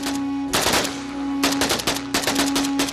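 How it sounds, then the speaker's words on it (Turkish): Loud bursts of gunfire crack in rapid clusters outdoors, several volleys separated by short pauses, over a steady low hum. "Bu silah sesleri de neydi?"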